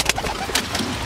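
Breeding pigeons in a loft coo in low, throaty murmurs over a busy background of flock noise, close and fairly loud with a couple of sharper calls.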